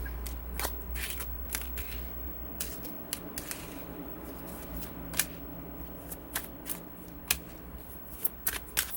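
Tarot cards being shuffled and flipped during a Sagittarius reading, with repeated crisp card snaps and riffles at an irregular pace over a low steady hum, close and fairly quiet, with no talking.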